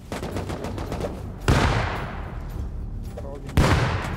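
Turret gunfire at a raid base in the video game Rust, rapid bursts of shots in a dense rattle that breaks off and then resumes, with loud impacts near 1.5 and 3.6 seconds and no voices.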